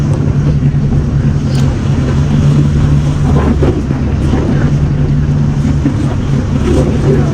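Passenger boat engine drones steadily during a crossing from Nusa Penida toward Bali, a loud, continuous low hum with water and wind noise throughout.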